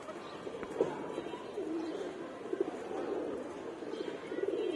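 Pigeons in a loft, just bathed, coo in repeated soft, rolling phrases that overlap throughout, close and moderately loud over low background noise.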